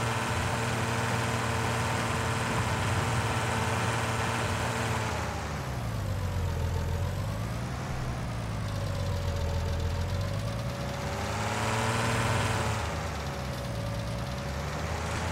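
Steady diesel drone from a Case IH 4166 4WD tractor of about 150 horsepower in Farming Simulator 19, rising and falling in pitch twice as the engine revs up and settles, loud and continuous with no talk.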